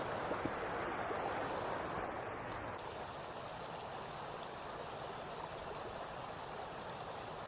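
A Dartmoor river rushes steadily over rocks, a constant broad close-up wash of flowing water, loud and unbroken with no talking.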